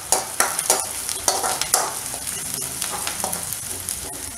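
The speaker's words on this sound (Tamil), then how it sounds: "இப்போ இதை வரமிளகாய் இதில் போட்டுக்கேன்." Dried red chillies frying with browned onions in a pan for a vallarai keerai stir-fry: a steady close sizzle broken by repeated sharp scraping stirs, louder in the first half.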